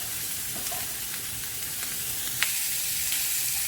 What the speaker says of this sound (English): we just leave them now for about 5 minutes, just to cook that fat and cook the skin and render down that fat